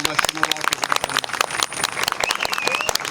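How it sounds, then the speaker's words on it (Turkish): Crowd applause for a minister at a Romani iftar dinner in Dibekdere neighbourhood, Istanbul, brisk clapping from many hands mixed with voices and someone speaking over it. "Sayın Bakanımıza bir alkış gönderelim."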